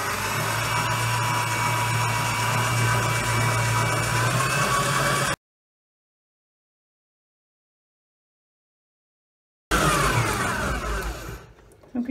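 A mixing machine running on burger dough: a steady, loud motorized whir that cuts off into silence, then starts again briefly and winds down.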